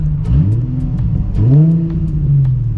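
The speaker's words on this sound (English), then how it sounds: "the muffler delete sounds really good" A Nissan 350Z with a muffler delete revs up while driving, its engine note rising and falling in a couple of smooth, loud pulls from inside the car.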